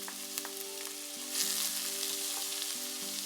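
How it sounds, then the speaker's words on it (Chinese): Blanched fresh peas stir-fried in melted butter in a pan, a steady close sizzle and frying hiss running throughout with soft stirring scrapes, no talking. "稍微翻炒一下，让食材均匀地沾上黄油。"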